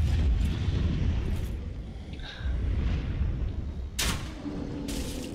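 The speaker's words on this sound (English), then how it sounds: "I didn't realize he was gonna spit fire down here" In Dark Souls III, an enemy spits fire with a loud roaring, rumbling blast that runs steadily for several seconds, topped by a couple of sharp bursts, in game sound without talk.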